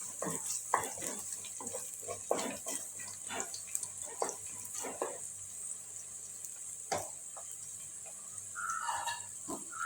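Onion, garlic and curry leaves with a pinch of salt sautéing in a pan for a Kerala-style shark curry, with repeated scraping stirs over a soft, steady sizzle, close by and moderately quiet.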